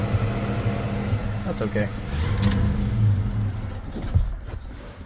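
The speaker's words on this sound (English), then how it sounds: "You can hear it misfiring." A 1970 Chevelle engine idles with a misfire, a low, uneven rumble running steadily under a voice close by.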